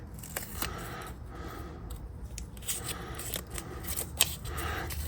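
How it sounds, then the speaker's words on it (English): Masking tape pulled and torn while taping off a spoon fishing lure for spray painting, giving close, quiet ripping and crinkling sounds in short bursts, with no talk. "we're going to tape this lure off for some spray painting"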